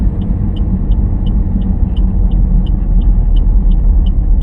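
Steady low car engine rumble at close range during a driving lesson as the car slows, with a faint repeating ticking like an indicator over it.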